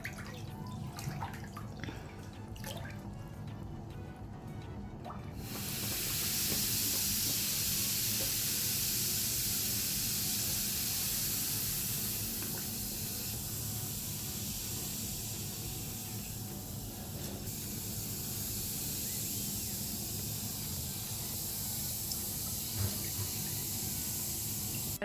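A bath bomb fizzes in bath water, a steady bright hiss that swells a few seconds in and carries on evenly, with faint drips and splashes near the start.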